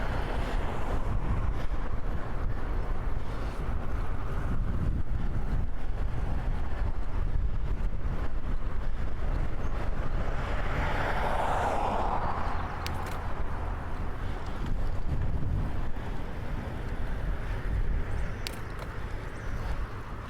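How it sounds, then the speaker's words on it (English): Strong wind blowing across the microphone while cycling on a commute, a steady loud rumbling buffet that continues without a break. "It's too windy."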